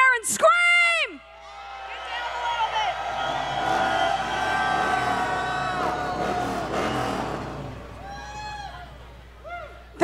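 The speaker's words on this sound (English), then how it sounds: "can everybody just stick your hands up in the air and scream?" Live rock concert crowd at the Sturgis Buffalo Chip rally in 2022 screaming and cheering with hands raised, a loud sustained roar of whoops and shouts that swells and fades, with a brief yell at the start and end.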